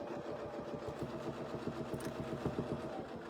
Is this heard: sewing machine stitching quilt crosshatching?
yes